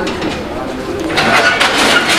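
A male pigeon coos in a short run of soft, throaty calls, fairly close, with people talking over it.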